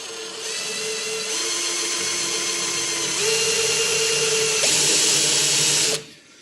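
A small drill bit bores a hole for a 4DOF simulator motor mount and lever set-up, giving a steady, close whine that rises in pitch partway through and cuts off sharply at the end.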